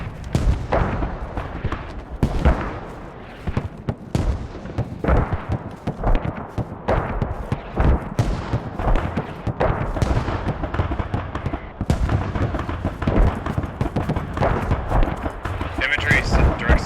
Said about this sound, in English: Yeah, I hear the mortars.